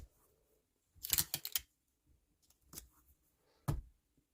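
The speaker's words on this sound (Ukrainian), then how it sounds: "далі розрізаю по боковій виточці" A few quick snipping clicks from scissors cutting fabric along a side dart, one short cluster followed by two single snips, close and fairly quiet in an otherwise still room.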